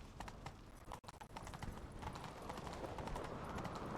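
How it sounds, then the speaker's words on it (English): Rapid hoofbeats of a galloping horse in The Witcher 3 pound in a quick, steady rhythm, continuing throughout at moderate volume. "Grab a horse, we'll chase him down."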